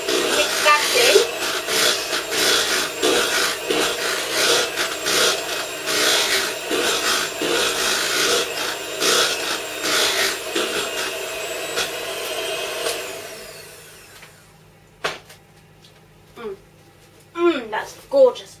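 Brownie batter being mixed by hand, a steady scraping and rubbing of spoon against bowl for about thirteen seconds, close and fairly loud, then stopping before a few brief sharp knocks and light clatters near the end.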